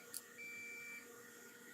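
A multimeter beeps during circuit testing on a PC Engine GT handheld console, giving a single steady, thin electronic tone lasting just over half a second in a quiet room, just after a faint click.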